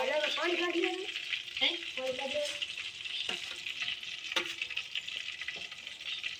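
Green chillies crackle and sizzle in hot oil for a dal tempering, a busy close fry with brief stirring knocks and a faint voice in the background.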